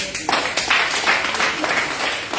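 Congregation clapping and acclaiming during a church service, a dense, steady wash of many hands sustained throughout at a moderate, fairly close level.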